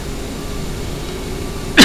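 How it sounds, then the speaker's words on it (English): A steady, droning CRJ 700 jet engine hum from a flight simulator fills the background, then a single short cough bursts out near the end, close and sudden. "A little cough in your face there."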